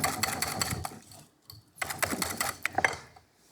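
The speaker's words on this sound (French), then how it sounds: "Donc, faut fouetter." Pastry cream whisked by hand in a bowl, giving fast rhythmic clicking and scraping strokes that pause briefly mid-way before resuming at close range.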